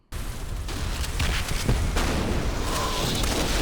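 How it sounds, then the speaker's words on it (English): Battlefield explosions roll out as a war sound effect, a heavy, rumbling barrage that starts abruptly and keeps booming loudly for several seconds with scattered sharper blasts. "let me play some explosions so we can feel better about it"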